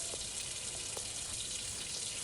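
A tap runs steadily as hands are washed in the Avatar World video game, a continuous hiss of water throughout the short stretch.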